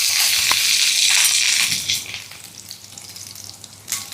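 Cumin seeds and curry leaves sizzle in hot oil in a kadai, a loud close hiss that eases after about two seconds into a softer crackle.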